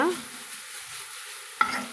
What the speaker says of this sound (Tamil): அந்த சூட்லேயும் அந்த எண்ணெயிலையுமே நம்மளுக்கு அது வதங்கி வந்துடுங்க